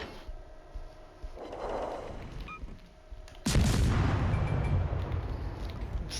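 Air-burst shells detonate in a naval battle video game, fired by the cruiser Furutaka: softer booms early on, then one heavy blast that gives way to a loud, sustained rumbling roar.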